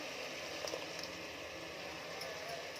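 Chicken gravy with ginger and garlic paste simmering in a pot, a quiet continuous bubbling hiss with a few soft pops, faint and steady throughout.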